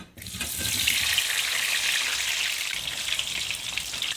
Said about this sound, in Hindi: उसी घी के अंदर हम आलू भी फ्राई कर लेंगे